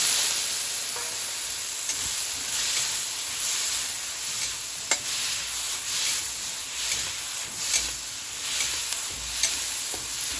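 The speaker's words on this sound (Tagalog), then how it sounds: "Ilagay na natin yung ating sibuyas. Yung ating damatis." Onion and tomato sauté in a pan for pakbet, giving a continuous bright sizzle with repeated scraping stir strokes and small crackling pops at an irregular, unhurried rhythm, close up and with no talking.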